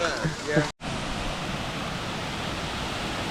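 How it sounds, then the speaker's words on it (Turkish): A Laotian waterfall near Luang Prabang gives a steady, broad rushing roar that fills the whole stretch, with brief voices and laughter at the start before a short dropout. "Çok güzel bir şelale."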